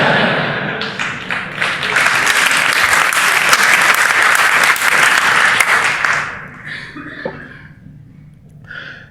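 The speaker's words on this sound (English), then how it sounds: "Yeah, you clapped to that." Conference audience claps in a loud, dense burst of applause that holds for several seconds, then stops abruptly and leaves scattered rustles, a cough and faint room noise.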